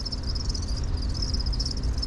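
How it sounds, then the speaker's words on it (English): Dense, continuous chirping from large bins of crickets inside a Petco pet store, a rapid shrill pulsing chorus over a low indoor hum, close and steady with no talking. "All throughout this store you could hear the sound of crickets, and that's because of these giant garbage cans full of crickets."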